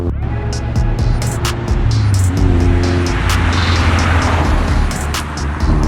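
A Sprint 185 car pulls hard on an open road, its engine note rising loud and close from inside the cabin as it accelerates, with a few sharp mechanical clicks and whines over the steady roar.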